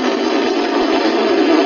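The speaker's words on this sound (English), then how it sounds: "You actually buzz, which is having a small aperture in the middle of the mouth" Lips buzz through a small aperture at the centre of the mouth, forming a French horn embouchure: a steady, reedy, nasal drone held for under two seconds, close and fairly loud, with no voice.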